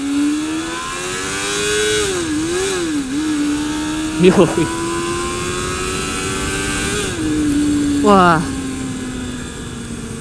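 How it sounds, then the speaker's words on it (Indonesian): A Suzuki Bandit 250 four-cylinder motorcycle engine revs high and steady on an open road, rising and easing in pitch, with loud wind rush and two brief spoken exclamations over it. "enak banget kalau denger mesin 4 silinder meraung tinggi tuh ya"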